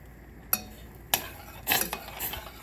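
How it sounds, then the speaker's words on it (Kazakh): A spoon stirs semolina into boiling milk in a pot for a Bounty cake. There are a few sharp metallic taps and scrapes against the pot over a low bubbling background, close and without talk. "қайнап тұрған сүттің үстіне манны крупаны салып, араластырып тұрамыз"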